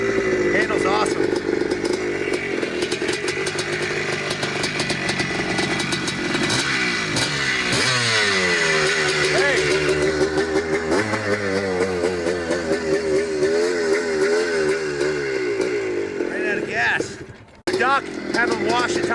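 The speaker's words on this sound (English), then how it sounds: "Don't you like the exhaust note? It sounds insane." A 1982 Maico MC250 vintage motorcycle idles and revs with a buzzing, rising and falling exhaust note close by, steady throughout before cutting off near the end, with a voice talking over it.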